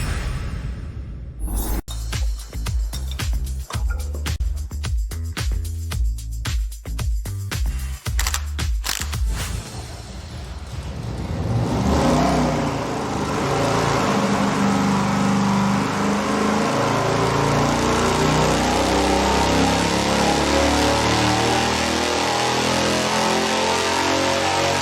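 A 440 engine fitted with a high-volume oil pump runs on a dyno, first firing with sharp irregular cranking bursts, then rising into a loud, sustained roar that holds steady for a long stretch, with no talking.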